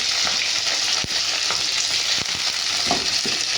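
Onion goes into hot oil with cumin seeds and fries in a steady, close sizzle, with a few sharp stirring clicks and taps throughout.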